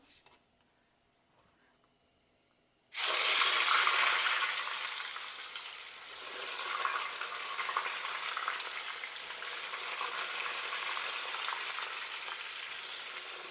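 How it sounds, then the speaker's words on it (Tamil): Raw plantain pieces hit hot oil after a quiet start, bursting into a loud sizzle that eases into a steady, continuous frying hiss. "இப்போ நான் வாழைக்காவையும் ஃப்ரை பண்ணி எடுக்க போகிறேன்"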